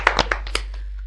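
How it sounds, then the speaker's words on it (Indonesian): A handful of sparse hand claps at a Catholic youth festival podcast, four or five separate close claps in the first half, then fading into quiet. "Woi, tepuk tangan"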